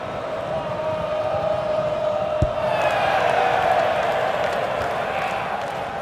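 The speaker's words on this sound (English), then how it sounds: "the crowd were up on their feet there" Stadium crowd in the FIFA 18 football video game swelling into a loud, sustained roar of cheering, steady throughout with a brief sharp accent partway through.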